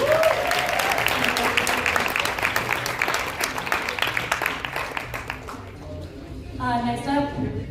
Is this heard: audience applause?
yes